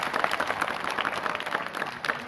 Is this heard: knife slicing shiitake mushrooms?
no